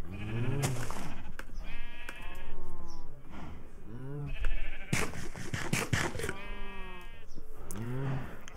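Repeated sheep bleats from the Minecraft video game, several wavering calls spread across the clip at a steady, moderately loud level with no voices.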